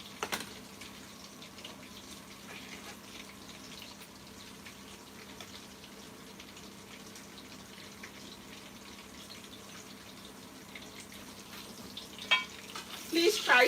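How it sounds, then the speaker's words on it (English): Sausage fries in a pan during a live cooking session, giving a faint, steady sizzle with scattered crackles and a few louder clatters and stirring noises near the end. No one speaks. "whenever you are frying your sausage, try to keep an eye on it."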